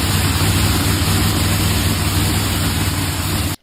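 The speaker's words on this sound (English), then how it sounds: "And then you're going to hear the rest of the limited drag radial cars' motors." Limited drag radial race car engines give a loud, steady, heavy low rumble with noisy roar on top. It holds constant and then cuts off abruptly at the end.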